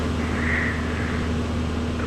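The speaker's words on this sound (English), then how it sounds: "the ground power units, as you know, they are extremely loud." Aircraft ground power units hum loudly and steadily beside a parked MD-11F freighter, a constant droning roar with a tonal whine running unbroken throughout.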